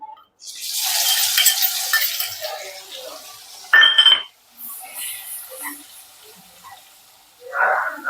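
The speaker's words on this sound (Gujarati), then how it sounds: "આ મરચાં લસણ અને જે લવિંગ છે એને અંદર નાખીને એનો વઘાર કરીશું" Chillies, garlic and cloves crackle and sizzle as they are tempered in hot oil, loud and close, easing off after a sharp burst and a clatter near the middle.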